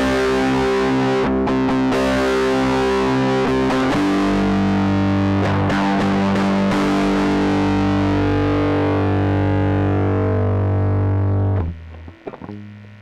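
Electric guitar played through a Joyo Baatsin overdrive pedal with the gain at maximum, giving thick, heavily distorted sustained chords that ring loud, then cut off abruptly near the end.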